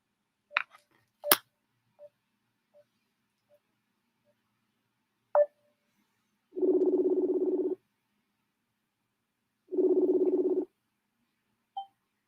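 Phone keypad tones beep as a number is dialed, several short separate beeps, followed by two long ringback tones with a pause between them, clear and close in a quiet room.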